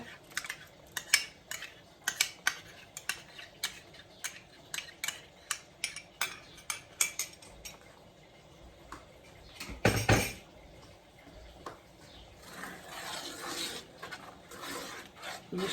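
Metal spoon scrapes and clinks against a pan while ginger-garlic paste with poppy seed paste is stirred and fried, a run of sharp rhythmic knocks followed by softer scraping and sizzling.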